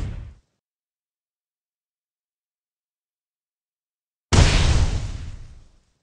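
Explosion from Deidara's clay attack in the video game Naruto Online Mobile, a sudden loud boom that bursts in after silence and rumbles off over about a second and a half, with no talk.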